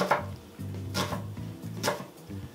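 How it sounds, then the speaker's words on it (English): A knife cuts through half an onion on a cutting board, giving three crisp chops in steady rhythm, each followed by a short knock of the blade against the board, close and clear. "just make several cuts along the length of your onion"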